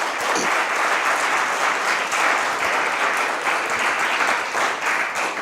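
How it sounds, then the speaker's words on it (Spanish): A church audience applauds steadily, a dense, even wash of many hands clapping at close range that holds for several seconds without talk. "Le damos un aplauso a Dios gigante."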